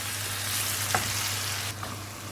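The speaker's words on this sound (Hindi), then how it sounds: "तो इसमें आप टमाटर डाल दें। तो तकरीबन 1-2 मिनट भूनें टमाटर को।" Chopped tomatoes fry with onions in a pan for a fish curry masala, giving a steady close hiss and crackle that never lets up, with a brief stir midway.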